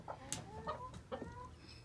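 Soft, low clucks and murmurs from a broody hen in a nesting box, a few short calls in quick succession, close and fairly quiet.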